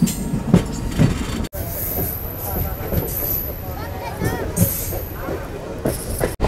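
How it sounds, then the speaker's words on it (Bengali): A train pulls out of Agartala station on the Agartala to Silchar route: a steady rolling rumble with wheel clatter and squeal and occasional sharp knocks, under background voices. "আগরতলা স্টেশন থেকে আমাদের ট্রেনটা ছাড়লো"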